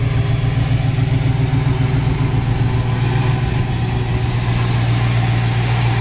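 An original 283 engine in a 1963 Chevy Nova convertible idles steadily through dual exhaust, a constant low rumble heard up close with no voices.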